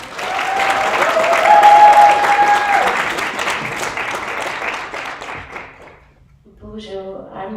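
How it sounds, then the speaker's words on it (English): Audience applause for a panel of speakers at an International Women's Day event in the Twin Cities, a dense burst of clapping that swells and then fades out, with a voice starting to speak near the end. "Please give them a round of applause."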